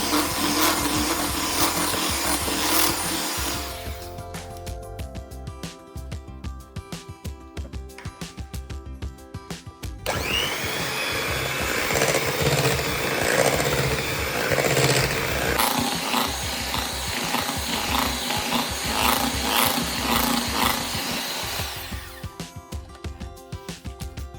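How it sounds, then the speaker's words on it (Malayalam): An electric mixer whirs while beating four eggs, two at a time, for a red velvet cheesecake brownie batter, running in loud stretches with pitch changes and short pauses between bursts, close up and without speech. "4 മുട്ടയാണ് ഇതിനു വേണ്ടി എടുത്തിരിക്കുന്നത്. 2 വീതം നമുക്ക് ബീറ്റ് ചെയ്തെടുക്കാം."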